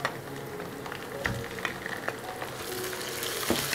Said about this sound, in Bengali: ভেজে নিচ্ছি পেঁয়াজ রসুনের বাটাটা।